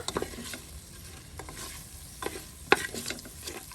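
Five green chillies, slit lengthwise, frying in oil in a pressure cooker for masala pulao, a steady sizzle broken by sharp clicks and scrapes of a stirring spoon, no talking.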